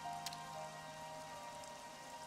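Rain falling in the video game Xenoblade Chronicles 3, a faint steady patter over a quiet tonal background with one brief brighter splash near the start, no voices.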